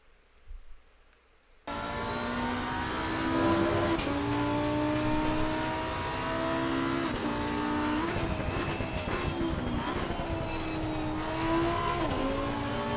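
A Lamborghini Huracan race car in Assetto Corsa Competizione at Mount Panorama roars to life after a short quiet start, then holds a loud, steady engine note that rises and dips with gear changes and throttle through the laps.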